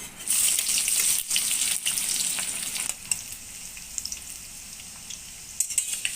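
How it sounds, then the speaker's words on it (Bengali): Onions hitting hot mustard oil in a kadai, a loud hiss at first that settles into a steadier sizzle, with scattered stirring clicks and scrapes near the end and no talk. "তেল গরম হয়ে গেছে এখানে আমি পেঁয়াজ দিলাম"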